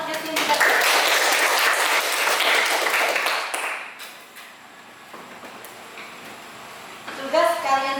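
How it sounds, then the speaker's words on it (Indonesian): Students in a classroom applaud two classmates with dense, steady clapping for several seconds before it dies away. A teacher's voice then speaks over the quieter room. "Tepuk tangan untuk Justin, Tilda"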